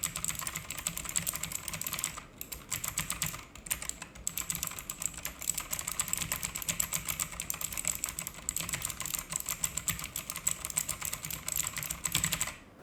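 Rapid, continuous clicking of a mechanical keyboard with loud Blue switches, typed close to a condenser microphone, with brief pauses between bursts of keystrokes.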